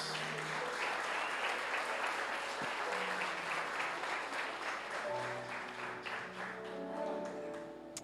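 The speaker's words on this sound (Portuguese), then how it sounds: "Quem pode dar um aplauso para Jesus?" Congregation applauding in a church service, a sustained wash of clapping with faint sung or spoken tones and music underneath, gradually easing in the final seconds.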